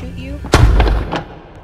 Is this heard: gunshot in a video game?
yes